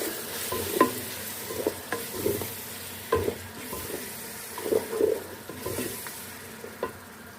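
Yogurt is stirred into spinach frying in a pan for an aloo palak dish, giving soft scraping spoon strokes at an irregular rhythm over a steady low sizzle, with no voices.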